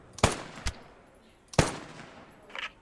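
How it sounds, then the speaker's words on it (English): Gunfire in the WWII shooter Post Scriptum, two close, sharp reports each followed by a quick second crack, then a fainter distant shot, with short decaying tails between them. "I'm still hearing shots from over there"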